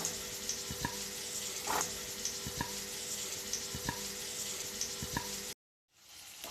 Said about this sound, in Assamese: আলুখিনি আমি গোল্ডেন ব্ৰাউন হোৱালৈকে ফ্ৰাই কৰিম